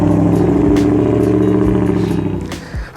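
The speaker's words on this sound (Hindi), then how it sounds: "ये गाड़ी आ रही है शोर करती हुई" A car passes close by with a loud, droning engine rumble and rattling clatter that holds steady, then eases off slightly as it moves away.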